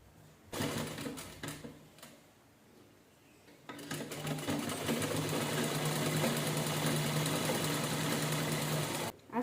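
Electric sewing machine stitching the lining onto a princess-cut blouse, running in short bursts then a long steady whirring run of rapid needle strokes, near and fairly quiet, no voices.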